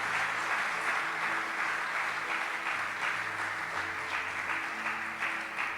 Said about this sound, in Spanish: Dele un aplauso al que es indispensable para nuestra vida.